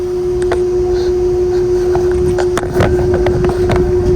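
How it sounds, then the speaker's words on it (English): A running outdoor air conditioner unit in Illinois with a GE fan motor and four slowly turning blades gives a steady mechanical drone with a strong constant hum, with scattered clicks and rattles over it. "fan is running, and the blades are spinning really slow"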